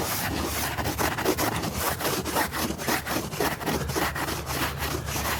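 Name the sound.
brush applying polish to stained glass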